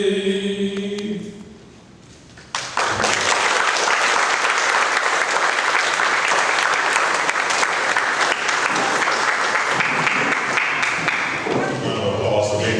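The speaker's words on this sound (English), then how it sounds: "Applause for being here this morning." Sustained crowd applause breaks out at an outdoor 9/11 anniversary memorial ceremony in Fremont, loud and dense for about ten seconds after a short quiet gap following some tonal music, then tapering slightly at the end.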